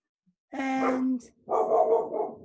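A dog gives two drawn-out, whining barks close by, the first a long tonal howl-like bark and the second rougher, with no talking.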